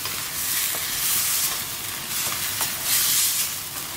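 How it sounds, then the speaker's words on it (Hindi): Masala fries in a pan over medium heat with a steady close hiss and sizzle, broken by a few light stirring scrapes. "आणि हो मसाला न्हू मातसो बरो फ्राय करूया"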